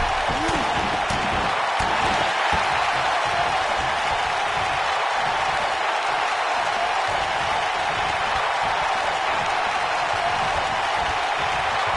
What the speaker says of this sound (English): this crowd never doubted The Rock's ability to get back in this thing